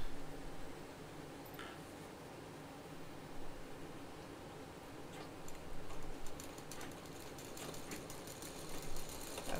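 Sewing machine stitching a handbag seam, a faint steady mechanical whir with light ticking, running on and off, with louder clicks toward the end.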